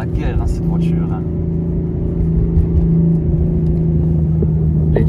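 An 850 hp tuned BMW M4 engine pulls hard from inside the car, a loud, steady droning roar that holds without a break, with faint muffled voices underneath.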